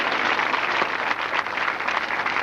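A crowd at a Diwali sadhana camp breaks into loud, dense applause, a continuous roar of many hands clapping at once that holds steady throughout without a break.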